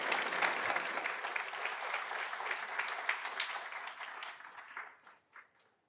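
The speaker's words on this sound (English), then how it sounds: "let's give her a big round of applause." Audience at a school board meeting gives an honoree a round of applause: a full burst of many hands clapping that thins and fades into scattered claps before stopping.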